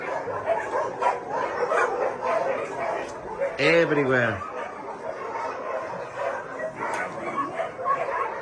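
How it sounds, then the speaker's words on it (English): A shelter dog lets out a short yelping, whining bark in the middle, over steady background noise of many dogs while someone talks. "So many dogs, so many dogs. So many dogs everywhere."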